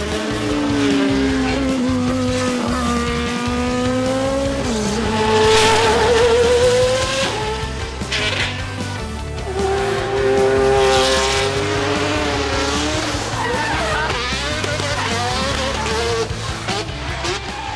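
Race car at the Goodwood Festival of Speed hill climb, its engine note rising and falling through gear changes with tire squeal, heard close and loud under ongoing talk.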